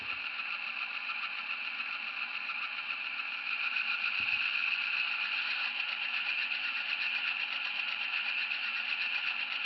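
An HO scale C425 model diesel locomotive's sound unit runs at a higher throttle notch, giving a steady, droning engine hum that holds evenly for the whole stretch with no talking.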